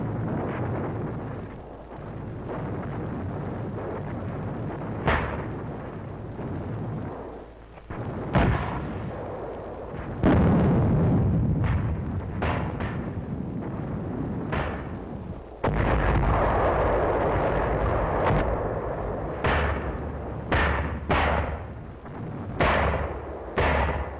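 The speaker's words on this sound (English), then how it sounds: "We called back for mortars and 155s." Mortar and 155 mm artillery shelling in a WWII video game set at the Battle of Angaur, a continuous rumbling barrage punctuated by repeated sharp blasts and booms, loud and dense throughout.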